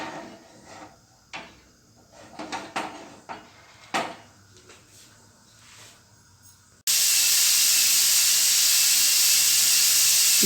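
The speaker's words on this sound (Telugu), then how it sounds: "ఇప్పుడు ఆవిరి బాగా వస్తుందండి" Steam hisses from an idli cooker on high heat, its lid on without the weight. After some clatter and handling noises, a loud, steady, broadband hiss starts abruptly and continues without a break to the end.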